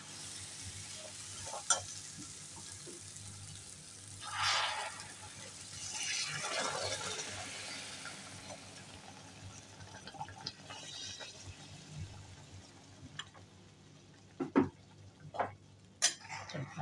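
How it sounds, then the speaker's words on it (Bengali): Hot water is poured into a sizzling pan of soybean masala with potatoes, peas, soaked flattened rice and green chillies, giving a burst of hiss and bubbling that settles into a steady simmer with occasional spoon and pan clinks. "এবার গরম জলটাও দিয়ে দিচ্ছি"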